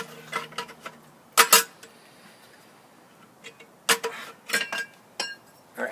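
Metal ash pan and grate of a Kimberly stove being handled, giving scattered clinks and clatters in short clusters with quiet gaps between, fairly close and with no talking.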